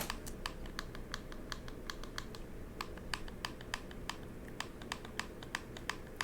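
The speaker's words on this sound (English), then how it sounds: "Do you guys hear how clicky those shoulder buttons are?" Clicky Game Boy Advance shoulder buttons pressed over and over in quick, uneven bursts of sharp, close taps, heard alone with no talking.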